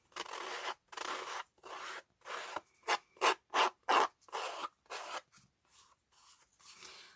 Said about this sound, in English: I love the effect sanding has.